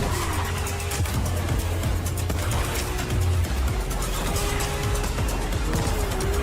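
A Ferrari engine in the video game Fortnite, a steady loud motor drone with shifting pitch that rises and falls as the car drives, alone with no talk.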